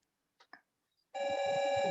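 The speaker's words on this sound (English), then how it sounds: "Can you hear that phone?" A telephone rings in a room as one loud, steady electronic bell tone that starts abruptly and holds, after a couple of faint brief noises.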